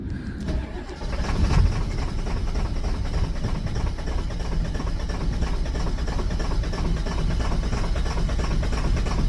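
Ford 7.3 Powerstroke diesel cold starting in frigid weather: a brief crank at the start, then a loud, steady, rough diesel clatter holding close and constant throughout.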